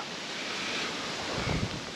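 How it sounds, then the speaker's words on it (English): Wind blowing steadily outdoors at a lakeside campground on Sardis Lake, a broad continuous rush with a slightly stronger gust near the end and no talk. "a wind kicked up yesterday evening late, and it died off when we went to bed, but it's back in force this morning"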